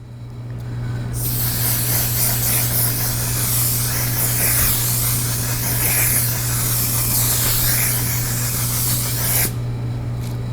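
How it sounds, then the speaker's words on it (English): A continuous close hiss of makeup setting spray misted over a face lasts several seconds, steady and loud, then cuts off abruptly. "we are just going to spray that all throughout the face"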